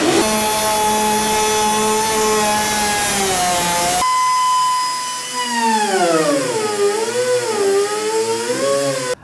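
Steady, loud whining drone of a power tool cutting through a composite canoe hull, its pitch holding level and then wavering and sliding up and down as the cut proceeds.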